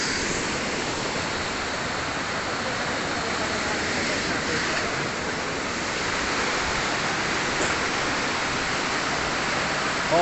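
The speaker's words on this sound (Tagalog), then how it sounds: "Ito na yung Mother Falls." Mother Falls waterfall in Baler, Aurora, a steady, full roar of falling water that fills the whole clip without letting up.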